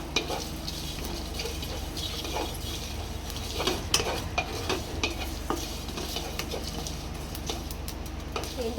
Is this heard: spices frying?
yes